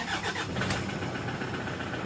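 A Toyota Hilux engine catching on start, with a low-power fault and dashboard warning lights on, then running with a rough, slightly noisy mid-pitched rumble, close by and steady for about two seconds.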